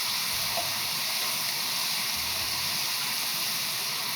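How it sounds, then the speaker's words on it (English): Aloo keema sauce of beef mince and potato simmers in a pan, giving a steady, even hiss and gentle bubbling that holds at one level throughout, with no voices. "just let that come up to a simmer"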